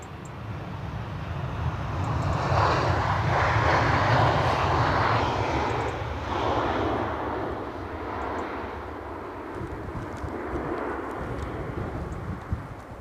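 A United Airlines airplane at windy Edinburgh Airport gives a broad, rumbling engine roar that builds and then eases off, with gusty wind noise buffeting underneath throughout.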